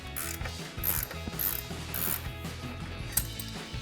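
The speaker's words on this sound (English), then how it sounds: "I'm gonna grab a 21mm ratcheting wrench to loosen up this nut." A 21mm ratcheting wrench works a nut loose on a tie rod during a front strut and spring install on a GMC Sierra 1500, giving repeated close clicking ratchet strokes in an uneven rhythm with metallic knocks.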